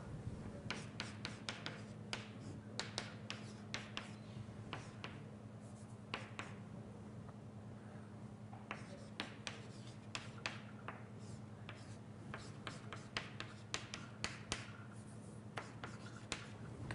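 Chalk or marker tapping and scratching on a lecture-hall board during an algebraic geometry lecture, a long irregular run of sharp close strokes and taps over steady low room hum, with no speech.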